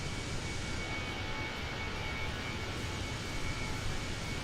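Airliner in Microsoft Flight Simulator with landing gear down and APU running: a steady, even engine and airflow roar with a faint constant whine, sustained at moderate level without talk.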